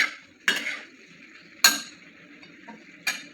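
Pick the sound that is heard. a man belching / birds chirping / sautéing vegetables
sautéing vegetables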